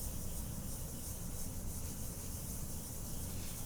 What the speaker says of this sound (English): Now I'm using a circular motion to blend this in.